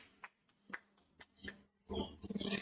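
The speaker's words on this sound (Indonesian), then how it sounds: "Tepuk tangan untuk Agus" A few isolated hand claps ring out in a quiet classroom, then children break into a short burst of clapping for a classmate who came to the front, soft and fairly distant.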